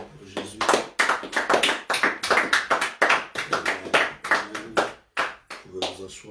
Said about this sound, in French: Est-ce qu'on peut encore applaudir pour Jésus?